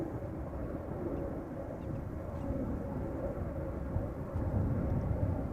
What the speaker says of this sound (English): we are going to see another Dreamliner 10. It is coming over here, slowly but surely